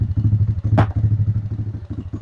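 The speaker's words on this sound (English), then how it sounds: "Now it's gonna idle for a little bit." A GY6 scooter engine idles right after its carburetor is primed and the choke dropped, a close, loud, evenly pulsing putter with one sharp clattering thump partway through.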